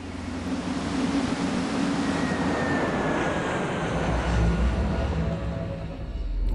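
Jet aircraft roaring past in Sid Meier's Alpha Centauri, a steady broad engine rush that swells and holds for several seconds with a faint rising whine.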